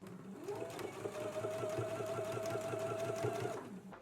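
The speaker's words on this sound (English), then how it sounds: "Now we can stitch close to this inner fold." A sewing machine stitches a narrow hem close to a folded-in inner fabric edge, running steadily and up close for nearly the whole stretch with an even mechanical whir.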